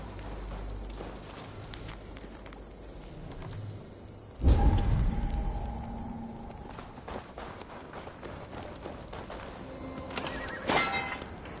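A horse in Assassin's Creed Valhalla whinnies loudly and close around the middle, with a second shorter neigh near the end, amid hoof clip-clop, footsteps and game ambience.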